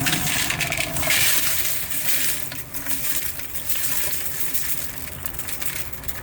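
Obsidian being pulled from a rock tumbler full of wet 8000 aluminum oxide grit, a continuous close wet churning and gritty rattling of stones and slurry without pause.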